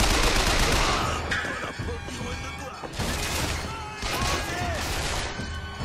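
Enemies shooting at the player in BioShock Infinite, dense overlapping gunfire with crashes and impacts, loud and chaotic throughout, with game voices shouting underneath.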